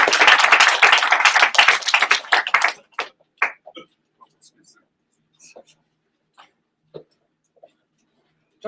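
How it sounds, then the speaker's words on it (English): A small group applauds at a divisional team meeting, a burst of close clapping for about three seconds that thins into scattered single claps and then quiet. "Let's give Jordan a round of applause."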